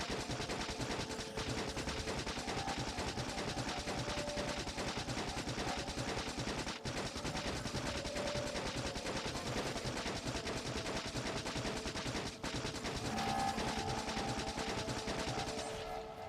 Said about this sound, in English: I'm gonna stand in the forest and fucking shoot at this.